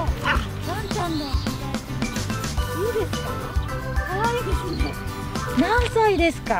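A small dog yips and barks repeatedly while out on a walk, the bark close and lively and mixed with whimpers, as people talk over it throughout.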